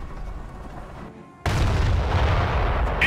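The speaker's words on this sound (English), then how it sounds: "Preparing mortar barrage." Mortar barrage in the Company of Heroes video game, Operation Market Garden mission on the German side: a quiet lead-in, then a loud, sustained rumbling roar of artillery blasts from about halfway through, continuing to the end.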